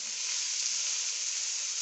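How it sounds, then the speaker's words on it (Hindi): Capsicum sizzles in a frying pan with a steady, bright hiss that carries evenly throughout, and no one speaks. "शिमला मिर्च को थोड़ा सा भून के,"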